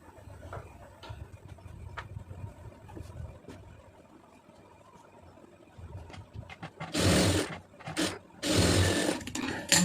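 A sewing machine stitches the shoulder seam of a plain blouse. A low, soft mechanical hum comes first, then loud, close bursts of rapid stitching near the end, with no talking.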